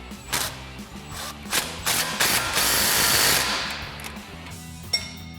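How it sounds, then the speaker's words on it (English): Impact wrench with an 18mm socket tightening the bottom mount on a Jeep Wrangler JK during a 2.5-inch suspension lift install, giving a close, loud ratcheting buzz in several bursts, with one sustained run near the middle and a sharp click at the end. "tighten down our bottom mount using an 18mm socket on our impact"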